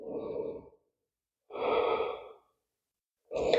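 Slow, deep breaths during a yoga session: three separate airy exhales or inhales, close and soft, with clear pauses of silence between them.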